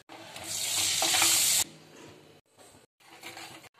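Loud sizzling of ginger, garlic, turmeric, Kashmiri chilli powder and cumin powder hitting hot oil in a pan, a burst of crackling for over a second, then quieter frying with stirring scrapes.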